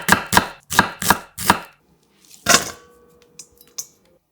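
A knife cuts half an onion into thick 0.5 cm strips on a cutting board, giving five crisp, evenly spaced chops, a pause, one more cut and a few light taps.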